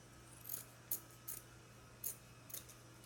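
Scissors snip several times, short crisp cuts spaced unevenly while trimming wreath material at an angle, quiet and close over a low steady hum.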